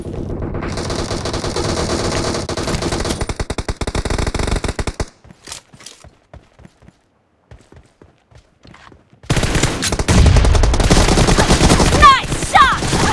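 Gunfire from the PUBG Mobile battle royale game, loud rapid bursts of automatic fire for about five seconds, a sparse stretch of isolated shots, then another dense, sustained volley near the end.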